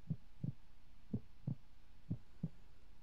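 A thumping heartbeat from the horror video game Creepypasta Museum 3D, with three lub-dub double beats in a steady slow rhythm, deep and muffled over a faint background hum, with no talking.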